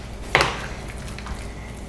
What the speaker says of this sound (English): Just loosen up those crispy edges.